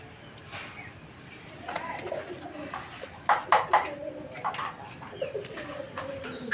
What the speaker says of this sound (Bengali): কবুতরগুলো একটু বেশি লড়াচড়া করতেছে